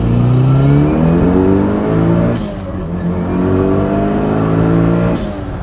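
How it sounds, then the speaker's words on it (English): A 500-horsepower Mitsubishi Lancer EVO with a built motor on E85 at 34 psi of boost revs hard with its turbo spooling, loud and close, in two rising pulls separated by a short lift-off. "you push the pedal, this turbo spools almost immediately"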